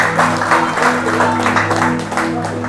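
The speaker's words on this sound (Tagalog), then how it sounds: "malakas na palakpak at hiyawan!" A church congregation at a family camp gathering claps and cheers loudly, with steady mixed applause over a sustained low hum or musical tone throughout.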